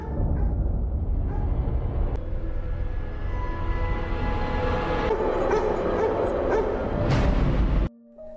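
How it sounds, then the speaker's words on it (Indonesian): A dog barks and yips repeatedly in a disaster-film scene from The Day After Tomorrow, loud and close over a dense rumbling score, with brief whimpers before the sound cuts off abruptly near the end. "Ini tiba-tiba si Guguk ngegonggong."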